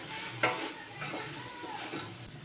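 A spoon stirs vegetables with cumin and coriander powder in a pan, giving soft scraping strokes with a gentle sizzle underneath and one sharper clink of utensil against metal early on, fairly quiet and close.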